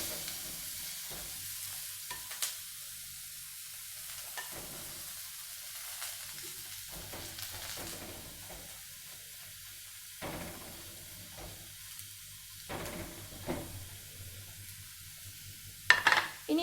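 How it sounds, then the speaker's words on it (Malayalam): Chopped onion, curry leaves and green chili sautéing in a pan, a quiet sizzle broken by intermittent stirring scrapes and clinks, close and without speech. "ഇനി ഇത് നമുക്ക് നന്നായിട്ട് ഒന്ന് വഴറ്റിയെടുക്കണം."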